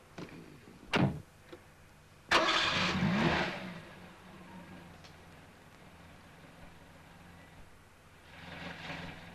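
An older car's engine is cranked and catches in a 1980 Italian film, a sharp thump followed by a rising roar that settles into a low idle, then swells slightly again near the end.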